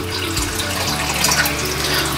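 Water poured with small live creatures into a saltwater aquarium tank, a close, continuous splashing gush with no talking.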